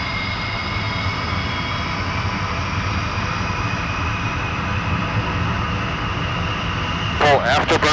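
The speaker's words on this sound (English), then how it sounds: "Full afterburner" SR-71 Blackbird jet engines at full afterburner roar in a steady, dense, loud rush of sound, with a voice cutting in over it at the very end.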